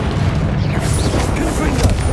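Spells cast in the Hogwarts Legacy video game, Confringo and Incendio, burst out as dense, loud booming blasts that fill the whole stretch continuously with no quiet gaps.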